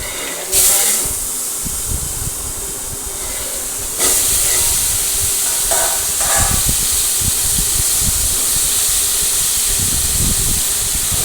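Asafoetida and curry leaves go into hot oil where mustard and cumin seeds are already crackling, tempering a brinjal curry. A loud, steady sizzling hiss jumps up at the start and swells again partway through, with no talking.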